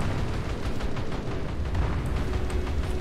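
In a War Thunder naval battle, heavy ship guns fire in rolling booms and blasts that overlap into a dense, continuous barrage of explosions.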